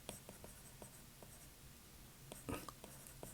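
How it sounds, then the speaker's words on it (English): Marker or chalk writing on a board for a math lesson, a series of short, faint scratchy strokes spaced irregularly, with a louder cluster of strokes near the end, close and quiet in a still room. "let's write this down"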